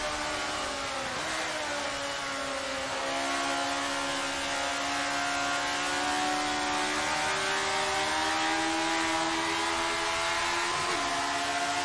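A race car engine in the Assetto Corsa video game drones loudly and continuously, its pitch rising steadily through each gear with a few abrupt drops at shifts, and no talking over it.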